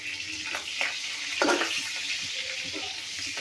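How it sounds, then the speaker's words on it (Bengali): Chicken liver frying with turmeric, chili and salt in a village kitchen, a soft steady sizzle with a few stirring scrapes and clinks, fairly quiet and close, with no talk. "এই যে কলিজা ভাজা হয়ে যাচ্ছে"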